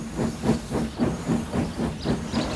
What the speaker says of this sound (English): Thomas puffed down his branch line and was trying to be on time